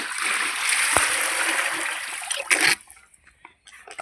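Water from a filled bucket is poured out for a cow, a loud steady splashing gush that runs for a few seconds and then cuts off abruptly, leaving only faint dribbles.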